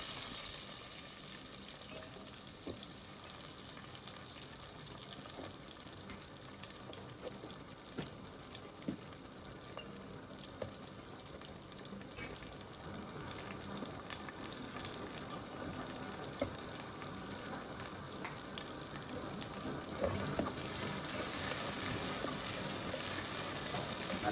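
Onions sautéing with cinnamon, bay leaves, fennel and cumin for mutton curry, a continuous close frying hiss with soft crackles and occasional stirring scrapes, steady throughout without any voices.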